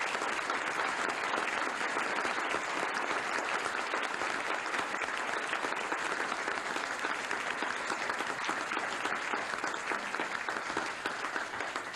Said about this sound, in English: Dr. Wacław Soroka and Olenka, would you give them a round of applause, please, at this time for their fine work?